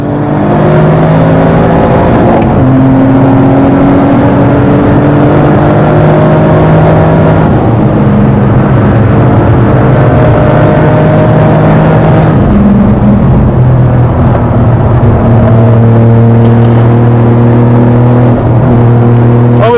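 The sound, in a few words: fast Toyota Yaris car engine driving past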